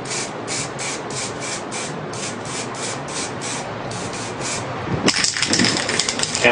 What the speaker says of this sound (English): spray on the black.